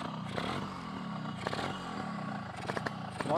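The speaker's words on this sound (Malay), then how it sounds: "mari kita start enjin motor ni" A Yamaha RXS 115 motorcycle engine idles with an uneven, rattling putter at close range, with a few sharper revs and mechanical clatter toward the end.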